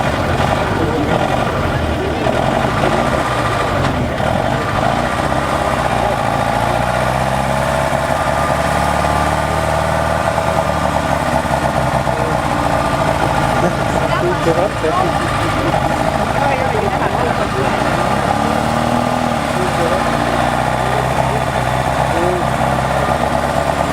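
A truck engine runs steadily throughout at a motor destruction event, with a continuous mid-to-low rumble and a vibrating drone at close range and a fairly loud, even level.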